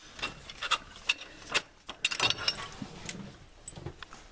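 A wrench works a battery cable clamp loose on a first-generation Dodge diesel, giving a run of close, sharp metallic clicks and rattles in uneven bursts with brief pauses between them.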